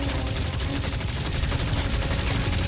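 Dense, continuous gunfire in the video game Guardians of the Galaxy, a loud unbroken rattle of rapid shots that fills the whole stretch with no speech.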